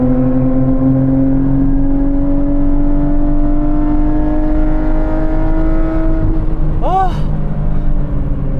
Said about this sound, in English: this aftermarket exhaust